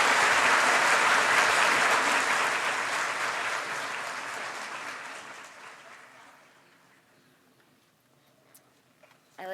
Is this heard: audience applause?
yes